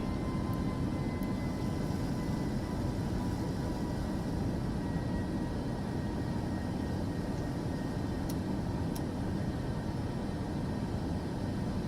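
An airliner climbs after takeoff in Microsoft Flight Simulator 2024, a steady, loud, unbroken engine roar with no voices.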